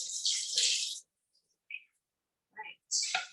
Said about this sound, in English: Okay, so I'm going to pour in the water.